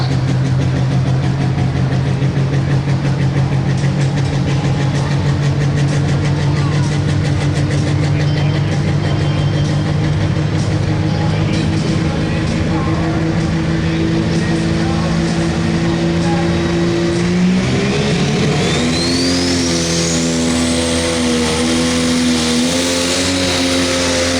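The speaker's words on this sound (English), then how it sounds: "ready to bend the throttle in the fire-breathing Pro Stock tractor class" A loud, roaring Pro Stock pulling tractor engine holds a heavy steady drone at a tractor pull, then shifts pitch and climbs as it revs harder near the end.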